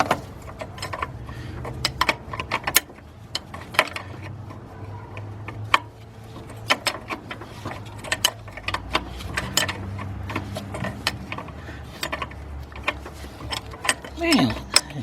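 A Matco ratchet wrench loosening a bolt on a 1995 Ford F150 with a 4.9 engine, giving rapid repeated clicking bursts close by, with brief voices and clanks between the ratcheting runs.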